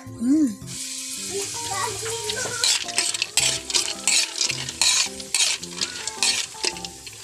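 Food stirred and frying in a pan, with utensil scrapes and clinks against cookware over a steady sizzle, up close; a voice is briefly heard at the start.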